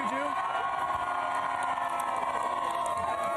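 A very large crowd gathers for a day-after-Election-Day morning TV broadcast, cheering and whooping in a steady, dense roar that fills the whole stretch without a break.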